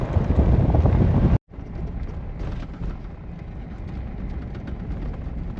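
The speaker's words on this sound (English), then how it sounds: "It's extremely windy out here right now." Strong storm wind buffeting the microphone at a wide-open campground, a loud continuous low roar with a brief dropout before the gusting resumes slightly quieter.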